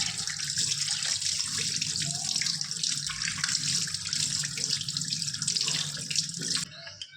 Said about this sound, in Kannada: ಇವಾಗ ತೊಳ್ಕೊಂಡು ಬಿಡ್ತೀನಿ